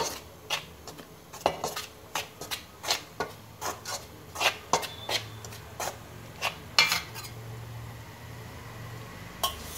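Maida flour mixed with ghee and a pinch of salt is rubbed and scraped by hand in a bowl, making a regular series of short, soft gritty strokes against a faint low background hum.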